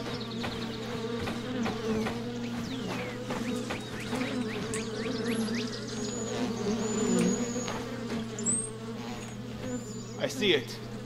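Bees buzzing in the video game The Vayle, a swarm of droning insects circling close with rising and falling whines over a steady low hum, no speech.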